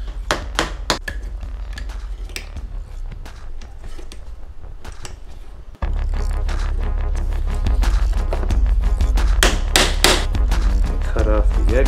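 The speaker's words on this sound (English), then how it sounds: "Then we can just drive that tack in all the way." Hammer driving a small tack into a wooden foundationless beehive frame, a series of sharp close knocks in an irregular rhythm, some workshop handling noise, no talking.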